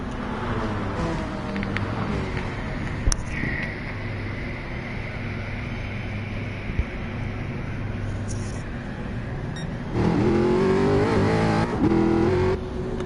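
A GT3 race car in the pit lane at Bathurst in a sim racing game, its engine droning steadily with a louder revving surge near the end, while commentary talk runs over it.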